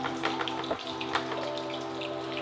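Butter bubbles and sizzles in a pan as it browns, a steady close crackle of fine popping spatters with a few sharper pops, heard alone.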